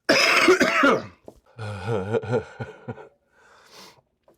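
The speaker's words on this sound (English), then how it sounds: "I may have gone on the coughing fit for like, I don't know, maybe about 5 or 6 minutes" A harsh burst of coughing and throat-clearing up front after inhaling concentrates from a Stündenglass, followed by strained, voiced hacking sounds that trail off into quieter rasping breaths.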